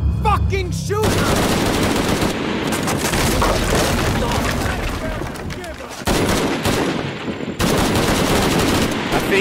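Loud, dense gunfire from the video game Shadow of the Tomb Raider rattles in rapid bursts and booms almost without pause, with brief gaps, and shouted voices are mixed in.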